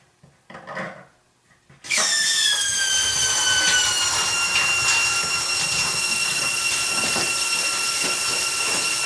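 Water from a kitchen faucet supply line under a sink bursts into a loud, steady hiss and spray after a brief spell of quiet handling noises, running on continuously close by.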